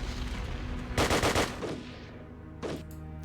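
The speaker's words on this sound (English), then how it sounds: "You definitely want to be just constantly firing your artillery when it's ready to fire." Artillery firing in the Decisive Campaigns Ardennes Offensive strategy game: a rapid burst of several sharp shots followed by one more report, loud and close over a low hum of game background sound, with no speech.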